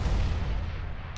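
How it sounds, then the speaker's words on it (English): A grenade explodes in CS:GO with a deep, loud, booming blast whose heavy rumble fills the whole moment, and no voices are heard. "Throwing a grenade."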